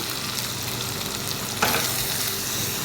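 Boiled vegetables and beans, cooked with salt and turmeric, tipped into a hot frying pan for a no-onion, no-garlic vrat dish, with a steady sizzle that swells abruptly as they land and keeps frying evenly.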